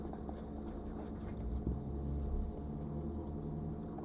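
Pen or pencil writing a word on a paper list, a soft scratchy stroke over low room rumble, close and fairly quiet, with no talk.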